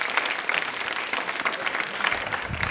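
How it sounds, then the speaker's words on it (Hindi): Studio audience on a televised general-knowledge quiz show bursts into brisk, continuous clapping after a correct answer, dense and even throughout the short burst. "बट जवाब सही है, बट तालियां हो जाए"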